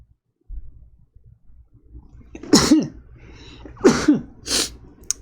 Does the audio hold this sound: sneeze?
yes